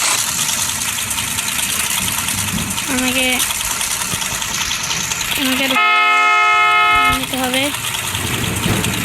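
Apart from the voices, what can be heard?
motorbike engine in a GTA 5 style video game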